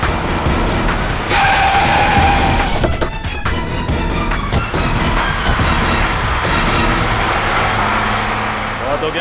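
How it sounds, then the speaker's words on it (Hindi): A car speeds away with tires skidding and squealing in a chase scene from the Indian crime drama CID, loud and sustained engine roar with screeching across several seconds. "ये नेहा तो गाड़ी भगाने लगी"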